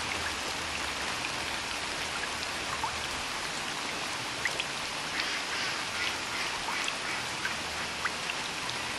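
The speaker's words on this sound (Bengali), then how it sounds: "প্রচুর বৃষ্টি হচ্ছে, তার ভিতরে দুইটি কবুতর বৃষ্টিতে ভিজতেছে।" Heavy rain pours steadily around two pigeons perched side by side, a dense continuous hiss of drops striking surfaces with scattered sharper splashes, loud and even throughout with no voices.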